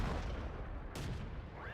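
A heavy tank cannon booms in a tank battle video game, a single deep rumbling shot around the middle over a loud, continuous engine and battlefield roar.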